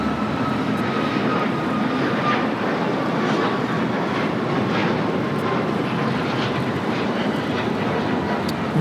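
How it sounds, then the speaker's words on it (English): A Cayman Airways Boeing 737 MAX 8 takes off from LAX bound for Georgetown, its engines a loud, sustained broadband roar with a faint tonal whine, steady throughout and free of talk. "Cayman Airways 481. Finally, taking off to Georgetown on this MAX 8"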